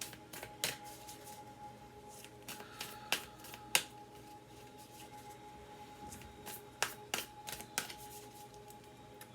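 A deck of oracle cards being shuffled by hand: quiet, scattered snaps and riffling clicks in irregular clusters over a steady low hum.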